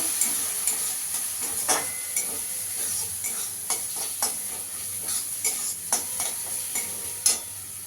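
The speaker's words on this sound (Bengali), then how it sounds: "নারকেলটাকে একটু ভেজে নেব" Grated coconut paste frying in a pan: a steady sizzle and hiss with repeated scraping clicks of a spoon stirring, close and continuous, no voices.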